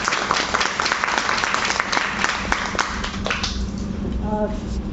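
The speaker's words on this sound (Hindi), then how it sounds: "एक बार अपने लिए जोरदार तालियां हो जाए" Applause from the audience at a Women's Day celebration gathering. The clapping is dense and sustained under a constant room murmur, then thins toward the end as a voice comes in.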